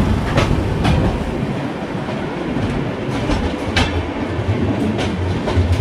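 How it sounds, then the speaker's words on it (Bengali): A local train rumbles past overhead near Dum Dum, steady loud roar of wheels with rhythmic clickety-clack and occasional sharp clanks, continuous for several seconds with no voices. "ট্রেন ওভার ট্রেন, উপরে দেখো ট্রেন যাচ্ছে, চলে গেল"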